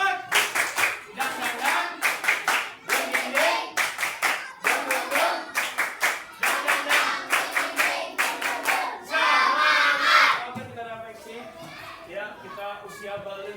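A group in an Indonesian religious-education class performs a patterned spirit clap. Bursts of rhythmic hand claps alternate with chanted shouts, a final loud cheer rises, and then voices talk.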